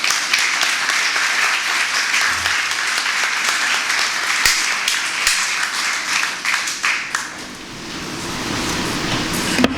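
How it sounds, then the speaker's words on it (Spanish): Audience at an academic book launch in Cuba applauds a speaker taking the stage, a steady burst of clapping that thins and fades near the end. "Un fuerte aplauso."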